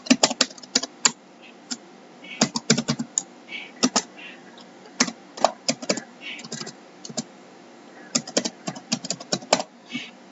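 An email address is typed on a computer keyboard while signing into WebEx Meetings, a steady run of close, crisp key clicks in uneven bursts with brief pauses.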